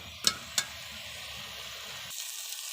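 Ridge gourd and potatoes with salt and turmeric fry in a pan, giving a steady, close sizzle broken by two sharp utensil clinks at the start.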